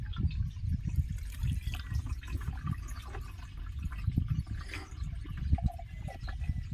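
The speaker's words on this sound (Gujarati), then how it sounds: "તો આ રીતનું મિત્રો થોડુંક પાણી નાખવાનું હોય અને પછી આ રીતની એક સાથે બધી ડબ્બી નાખી દેવાની" Water and a seed treatment are poured onto cumin seeds, a soft, quiet trickle and splash of liquid that goes on unevenly.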